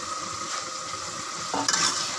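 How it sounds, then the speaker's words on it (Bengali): Mola fish curry frying in a pan as a little water is added, a constant sizzle that flares briefly louder near the end. "মলা মাছগুলো আমি আগে থেকে বেজে নিয়েছি সাথে সামান্য পরিমাণে একটু জল দিয়ে দিব"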